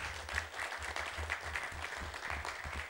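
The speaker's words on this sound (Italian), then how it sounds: "RAI, un grande applauso." Audience applause at the Festival Internazionale del Film Corto Tulipani di Seta Nera, a short film festival, with a dense, steady clapping crowd sustained throughout.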